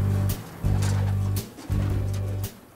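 Domestic pigeons coo nearby in a loft, giving three long, low, throaty coos separated by short pauses, fairly quiet with no talk.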